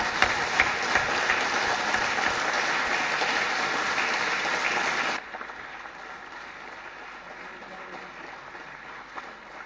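Sustained, dense audience applause fills a conference hall, loud and steady, then drops to a softer, thinning patter about halfway through.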